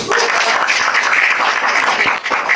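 An audience at a community business gathering applauds in a dense, continuous wash of clapping that stays loud and steady throughout, with a faint voice briefly audible beneath it.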